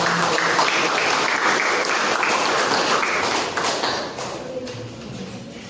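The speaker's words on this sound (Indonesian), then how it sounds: "Tepuk tangannya" Applause follows a group presentation in a classroom-style session, a group clapping loudly and evenly before the clapping thins and fades toward the end.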